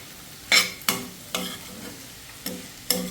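A spoon stirs jackfruit curry with mustard in a pan, six distinct scraping strokes at a steady rhythm over a soft background sizzle, close and fairly loud.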